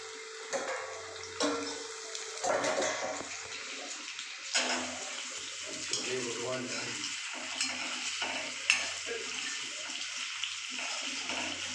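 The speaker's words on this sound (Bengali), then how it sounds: "ভেজে আমি পনিরটা উঠিয়ে নিচ্ছি" Paneer fries in a hot kadai with close sizzling and bursts of stirring, scraping and spattering at irregular intervals, no voices.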